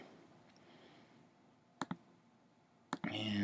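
A few sharp computer mouse clicks while right-clicking and transforming a shape in design software, two quick pairs of clicks, close and crisp, over a quiet background with some speech.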